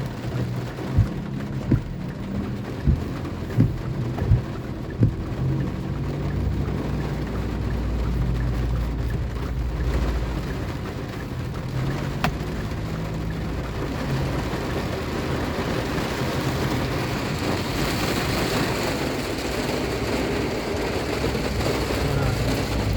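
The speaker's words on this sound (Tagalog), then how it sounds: "Ulan, lakas lakas ng ulan mga paps." Heavy rain drums steadily on a car during a ride near Antipolo, a dense continuous hiss with a few sharp knocks early on, and a voice speaks briefly over the downpour.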